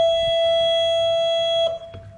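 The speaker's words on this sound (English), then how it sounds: "please excuse the obnoxious beeping of the oil rigs that's in some of my other videos too" A safety alarm on an offshore oil rig sounds as one sustained, piercing electronic beep that holds for over a second and a half, then cuts off. Faint background noise continues after it.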